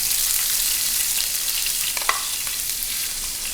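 Onion dropped into hot oil with mustard seeds and cumin, a loud, dense sizzle and crackle held close throughout, with a brief sharp pop midway and no voices.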